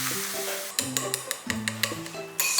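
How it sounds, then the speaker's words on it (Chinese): Hot oil poured over chopped red chili and scallion sizzles in a bowl, a crackling hiss with short bursts and faint clinks under a quiet kitchen background. "再淋上热油"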